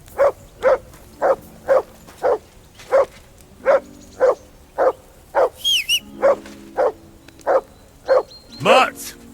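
Dog in Kingdom Come Deliverance 2 barking loudly and close, a long, evenly spaced series of about a dozen sharp barks, with a voice and a whistle-like call breaking in near the end.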